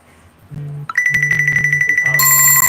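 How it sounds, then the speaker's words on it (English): A phone rings with an incoming call, a repeating electronic ringtone pattern that grows louder and brighter, heard close and alone without talk. "Oh, we have a phone call coming in."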